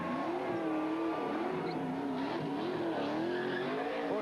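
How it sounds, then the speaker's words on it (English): Kurt Busch's Dodge race car doing victory donuts on the pit stretch at Watkins Glen, a continuous wailing tire squeal over a steady revving engine, loud and sustained. "He's got some donuts."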